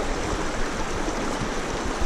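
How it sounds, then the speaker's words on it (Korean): Snowmelt water from a mountain trickles and rushes down a stream on a hike near Portland's Elk Meadows, a steady broadband flow close by with no voices. "저기 후두산에서 눈 녹은 물이 이처럼 졸졸졸졸 내려오고 있습니다."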